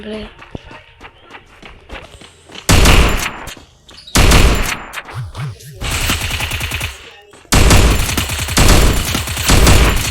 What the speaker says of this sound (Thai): ปืนกลด้วย